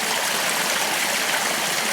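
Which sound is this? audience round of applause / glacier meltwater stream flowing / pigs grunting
glacier meltwater stream flowing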